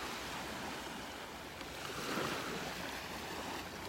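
Ocean waves washing onto a beach on an overcast morning, a faint steady surf wash with a gentle swell in the middle, no voices.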